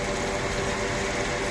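A Mercedes-Benz G500 engine idles steadily with the AC and fans running, a continuous even hum and whir heard close by without talk.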